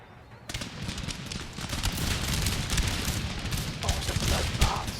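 Musket volley gunfire in Empire Total War erupts as a dense, continuous crackle of many shots at once, rolling and sustained over a rumbling battlefield din.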